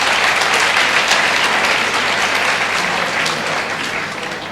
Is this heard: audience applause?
yes